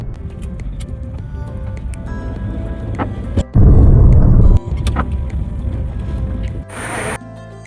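Steady engine rumble and road noise from a car moving along a service road, with a brief louder whoosh midway and a short hiss near the end.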